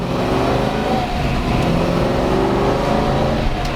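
A 1966 Ford Mustang fastback K-code with a four-speed top-loader pulls away from a stop, its engine giving a steady, moderately loud rising growl under load with no talking.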